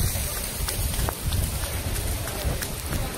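Heavy rain pours down steadily during a monsoon downpour, a dense, loud, close wash of drumming drops with no pauses and no clear talking.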